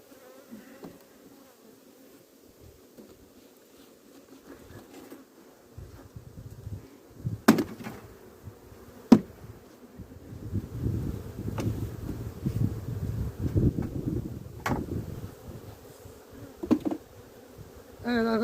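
Honey bees buzzing around hives being merged by a beekeeper, a low, swelling drone that comes and goes over long stretches, with a few sharp knocks and brushing noises as bees are shaken in.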